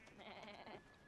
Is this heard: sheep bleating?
yes